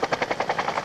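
A Bell UH-1D helicopter at an air base open day gives a steady rhythmic rotor thump, about ten evenly spaced blade beats per second, fairly loud and alone.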